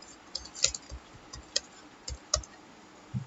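Typing on a computer keyboard: sparse, crisp key clicks in an irregular rhythm, close and fairly quiet, with no talking.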